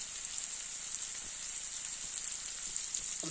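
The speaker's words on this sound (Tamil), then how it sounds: "நல்லா சின்ன வெங்காயம் நல்லா வதங்கிக்கணுங்க" Small shallots sauté in a pan, giving a soft, even, rain-like hiss that holds steady throughout at low volume, with faint scattered pops.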